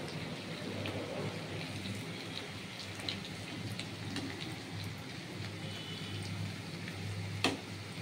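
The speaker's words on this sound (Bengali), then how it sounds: "দেখুন কেমন সুন্দর করে ভেজে নিচ্ছি" Chili cauliflower fries in a pan, a soft, steady hiss and crackle like light rain, fairly faint and even, with a sharper tap near the end.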